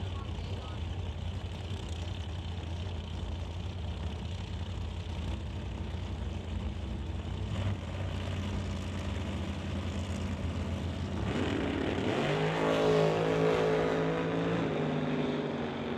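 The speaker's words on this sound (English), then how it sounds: "the JS Power Sports Rad Torque Systems top dragster, far side of the racetrack, making its first hit of the weekend" JS Power Sports top dragster on a drag racing run on the far side of the track, a distant roar rising sharply toward the end over steady crowd and track ambience.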